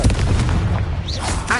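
A Confringo fire blast spell explodes in Hogwarts Legacy on PS5, a loud, short booming burst with a rumbling low tail.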